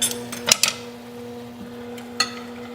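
A metal spoon clinks and scrapes in a pan while pork chops are basted at medium heat, with two or three sharp clatters near the start and another knock later over a steady low hum and faint sizzle.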